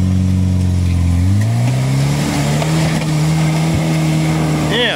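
A car climbing a hill at night on an unexplored off-road route, its engine rising in pitch as it accelerates, loud and close, with a steady rumble throughout and voices talking over it.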